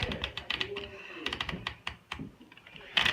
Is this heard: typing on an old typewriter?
yes